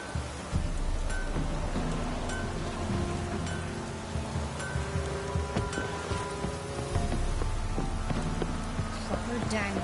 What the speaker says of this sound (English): Proper downpour,